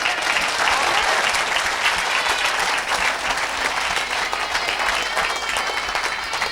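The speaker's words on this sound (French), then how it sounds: "Quelqu'un acclame le Seigneur." Crowd at a French-language evangelical healing service cheers and applauds for the Lord, a dense, steady wash of clapping and shouting that stays loud and continuous throughout.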